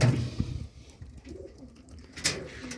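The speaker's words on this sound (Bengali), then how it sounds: "দেখুন কবুতর অনেক সুন্দর একটা কবুতর" Pigeons coo softly and up close in a loft of caged pigeons. Low, rolling coos follow a brief rustle at the start, with no talk.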